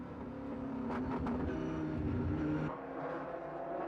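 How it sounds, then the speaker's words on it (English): Onboard sound of a Viper GTS race car at speed in the Le Mans Endurance Series, a steady loud engine drone with a brief rising rev in the middle, then a drop in pitch as it shifts or lifts off. "Here we're on board in the GTS category on the Viper number 60 of Team Force One."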